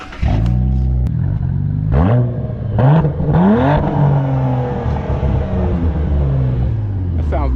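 Twin-turbo V6 car engine with its rev limiter removed, revved hard in several loud, close blips, the pitch sweeping up and dropping back before a longer rev that slowly winds down.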